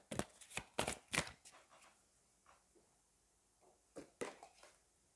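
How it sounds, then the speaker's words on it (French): Chakra oracle cards being shuffled and drawn, a run of quick crisp riffling bursts near the mic, followed by a few softer card slides and taps in a quiet room. "on va prendre une carte du chakra du cœur et on terminera là-dessus"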